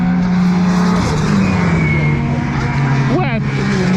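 Race cars at an Anglesey time attack event warm their tyres on track, engines droning steadily with shifting pitch and a brief rising rev near the end, under constant commentary.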